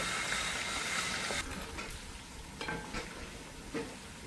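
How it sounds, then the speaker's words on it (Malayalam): A large batch of fried rice sizzles in a pan as it is stirred, with a steady frying hiss broken by a few distinct scraping stir strokes, and no voices. "ഒന്ന് ഇളക്കി കൊടുത്ത് എല്ലായിടത്തും അങ്ങ് ഫ്രൈ ആവട്ടെ."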